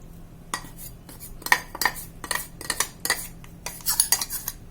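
A spoon scraping and tapping coarse ground sesame mixture out of a mixer jar onto a plate, with a series of irregular metallic clinks and scrapes, close and clear, no talking.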